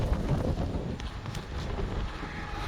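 Strong wind buffeting a microphone on a farm beside a highway, a steady loud roar and rumble that fills the whole stretch with no pauses.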